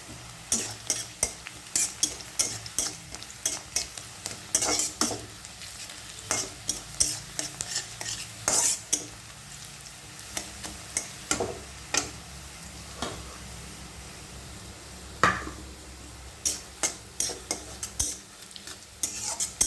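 Onions stir-frying in a pan for a prawn and bottle gourd curry, with steady sizzling broken by frequent sharp scrapes and clicks of a spatula stirring against the pan, close and fairly quiet throughout.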